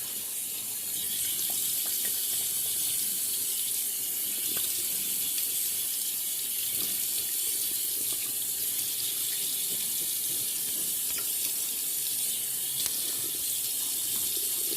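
Tap water runs steadily into a sink while a face is wetted before shaving, a constant close splashing rush that carries on without a break.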